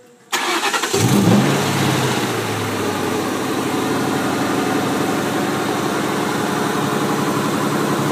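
A Ford Mustang Mach 1 engine with a cooling issue cranks and catches, then settles into a steady, loud idle that keeps running without pause while the cooling system builds pressure.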